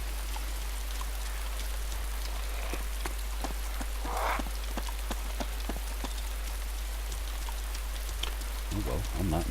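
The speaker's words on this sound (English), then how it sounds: "it's absolutely pissing down with rain" Heavy rain in the DayZ video game patters steadily across the whole stretch, a constant hiss with scattered drops and taps over a low hum, while someone speaks quietly now and then.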